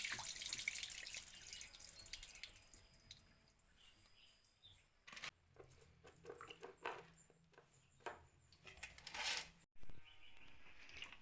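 Water trickles and splashes in a sink as urad dal is rinsed by hand, with a few sharper sloshes and drips near the end.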